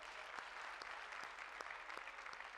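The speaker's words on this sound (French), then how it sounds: "On les applaudit." An audience at a comedy television show breaks into brief, even applause, a dense wash of clapping with a few sharper individual claps standing out, moderately distant.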